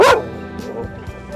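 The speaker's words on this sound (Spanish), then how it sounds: "Vinieron un millón de perros a buscarnos." A loud dog bark opens, followed by fainter distant barks and yips from a pack of dogs roaming a dirty, abandoned-looking spot in northern Argentina, the later calls quieter and scattered.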